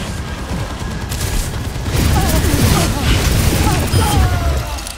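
Loud explosions and bursts of gunfire rumble and crackle through a firefight in Overwatch 2, with a booming blast swelling in the middle and continuous battle noise around it.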